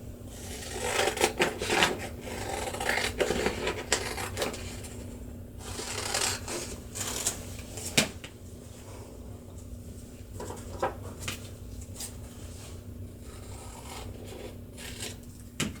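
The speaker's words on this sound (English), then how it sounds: "I'm going to cut the template with my scissors." Scissors cut through a paper template for a fall leaf banner craft, giving intermittent close snips and soft rustling of paper, spread across the stretch with quiet pauses and no talking.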